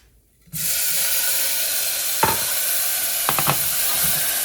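Tomatoes drop into a hot frying pan for chana masala and set off a steady, loud sizzle that carries on without a break, with a couple of brief stirring scrapes partway through.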